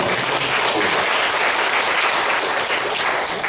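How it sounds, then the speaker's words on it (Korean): A church congregation claps during a Sunday sermon, producing a dense, even burst of applause that holds steady throughout. "박수 부탁드리겠습니다"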